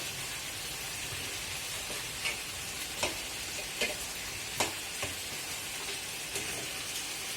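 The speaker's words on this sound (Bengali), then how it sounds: "আর এদিকে তেল গরম করেছি, মাছের মাথা নিয়ে নিয়েছি, একটা মাছের মাথাকে হাফ অফ করে এটাকে প্রথমে আমি ভেজে নেব।" A fish head cut in half fries in hot oil with a soft, even crackling sizzle, punctuated every second or so by sharper pops and spatters, close and without talk.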